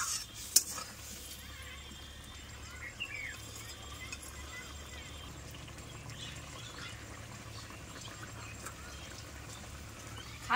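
Poppy seed paste being stirred with pointed gourd in a pan, a steady soft scraping and faint sizzle running throughout at low volume, with a few sharper utensil knocks near the start and end.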